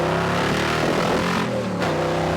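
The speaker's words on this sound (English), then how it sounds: "This car is so exciting." A car engine drones loudly and steadily throughout as the car drives and accelerates, with a rising rumble and some wind noise; no one speaks.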